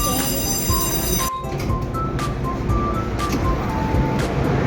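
Inside a moving train, a steady rumble of wheels on track with clicks and faint tonal squeals, continuous and close throughout.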